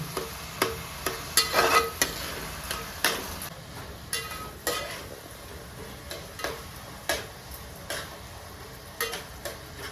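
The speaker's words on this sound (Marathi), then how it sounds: "कांदा टमाटर एकदम एक नंबर असं परतून घेऊन" Onion and tomato sauté in a pan for a spicy chicken curry, giving a soft, steady sizzle broken by regular scraping stir strokes, close and moderately quiet, with no talking.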